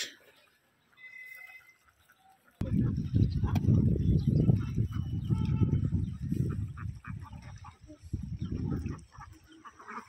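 Around a thousand ducks at a village duck farm on a foggy winter morning quack and honk together as a dense, continuous flock chorus, starting abruptly after a brief quieter stretch with faint calls.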